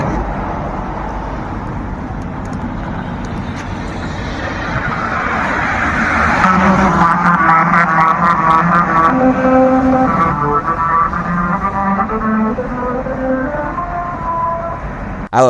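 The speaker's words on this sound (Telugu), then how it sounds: "కారు రోడ్డు మీద దంచుకొని పోతుంటే మ్యూజిక్ వస్తుంది అనుకుంటురా? అదే మరి మ్యూజికల్ రోడ్డు అంటే." A car drives over a musical road in Mumbai, its tyres drawing out a buzzing tune of sustained pitched notes that rises over loud, steady road rumble midway through and carries on to the end.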